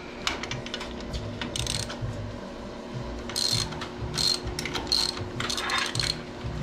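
A wrench loosens a fitting on a commercial LAARS boiler pump, giving a run of close ratcheting clicks and metallic clinks in bursts over a steady mechanical hum.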